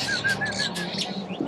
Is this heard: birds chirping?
yes